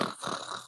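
A person imitates snoring, giving one short, nasal, rasping snore alone and close to the microphone.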